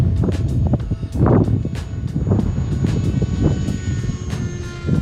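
A ZOHD Drift RC plane with a 5-inch propeller flies in wind, its motor buzzing steadily while gusts of wind noise rumble loudly across the microphone throughout.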